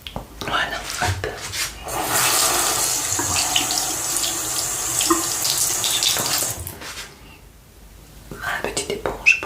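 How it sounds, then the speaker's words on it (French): Water runs from a tap into a bathroom sink while a small sponge is rinsed during an evening facial care routine, a steady close splashing flow for several seconds that stops near the end, with soft whispering around it. "Ma petite éponge pour rincer."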